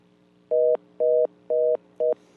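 Telephone line tone after a radio show caller's call drops: four identical steady beeps, each about a quarter second, evenly spaced half a second apart over a low hum, clear and alone.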